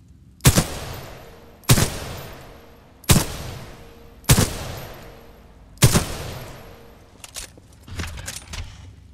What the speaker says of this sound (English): Let's try with the SMG.